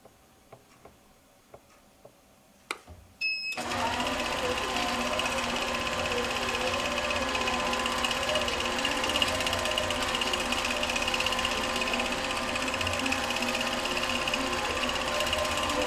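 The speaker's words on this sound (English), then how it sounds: "now I'll stitch the same pattern, the same speed and everything, the same part of the pattern" Quilting sewing machine stitching a pattern with its dwell feature switched off, starting with a few sparse clicks and then settling into a continuous smooth mechanical whir with a fast ticking rhythm at steady speed, close and with no talking.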